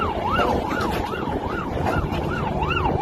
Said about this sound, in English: They got the police siren.